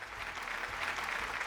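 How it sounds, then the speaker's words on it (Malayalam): A studio audience at a TV game show gives a short burst of steady applause, fairly faint and even, with a few low thumps. "നല്ലൊരു കൈയടി കൊടുത്തേ."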